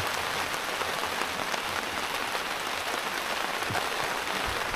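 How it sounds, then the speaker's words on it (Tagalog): Steady, heavy rain pours down on a hard surface, a dense continuous hiss with scattered drops pattering throughout, no voices. "Ulan na naman."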